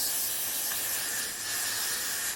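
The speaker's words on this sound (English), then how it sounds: "So now I'm going to also spray on some of this Got To Be freeze spray" A steady, continuous aerosol hiss of Got2b freeze hair spray applied to a wig, bright and close, lasting a couple of seconds without pause.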